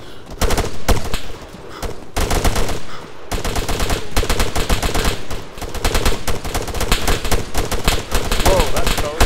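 Dense, loud gunfire in the military shooter ArmA 3, with rapid automatic bursts and single shots close by during a firefight, nearly continuous with brief pauses, and a voice occasionally under it.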